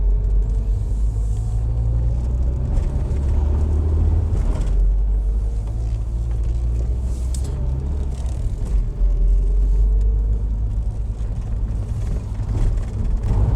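Steady low rumble of a Rover 800 Vitesse Fastback engine and road noise while driving, continuous and fairly loud throughout.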